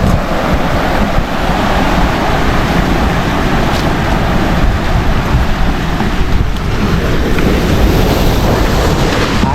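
Strong ocean surf rolls and crashes continuously, a loud, steady roar of breaking waves with wind buffeting the microphone throughout.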